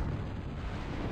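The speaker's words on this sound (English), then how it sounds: "At least it gives a nice explosion." An ultimatum shot explodes on impact in a video game, a dense low rumble filling the whole second without a clear start or end and no voices over it.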